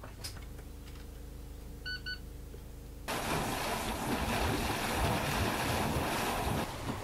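Steady broadband rumble of a Broom 42 cruiser's warmed-up engines on the River Shannon, joined midway by louder wind and splashing surf, continuous and close, with no talk.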